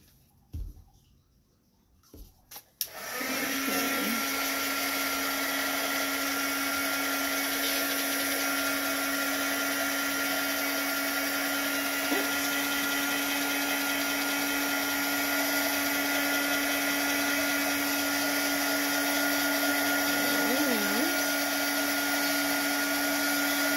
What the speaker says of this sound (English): Let's try the heat gun.